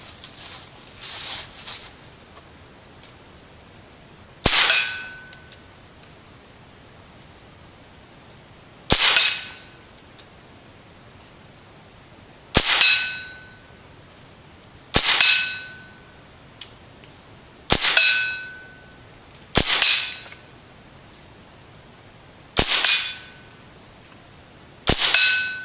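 An Umarex Ruger 10/22 air rifle fires at a target 40 yards away: eight sharp, loud cracks spaced a few seconds apart, each with a brief metallic ring, in otherwise quiet surroundings.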